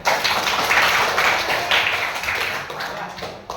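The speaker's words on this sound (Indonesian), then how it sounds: "tepuk tangan untuk temannya" Steady applause from a crowd, a dense patter of many hands clapping at a fairly even level for a few seconds.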